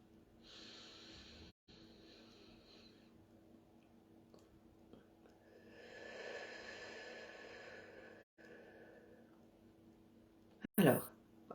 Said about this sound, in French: Inspiration par le nez